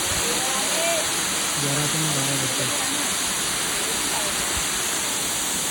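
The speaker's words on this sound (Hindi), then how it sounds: "आप देख सकते हो ऊपर एकदम झरना" A waterfall at a hidden spot in Indore pours with a steady, loud, rushing roar that fills the scene while people talk over it.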